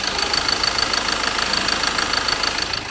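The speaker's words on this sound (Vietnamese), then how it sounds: "Tiếng máy nổ rất là êm" A 2017 Ford Ranger XLS automatic pickup truck engine idles steadily close by, a smooth, even mechanical hum with a faint rhythmic ticking and no voices.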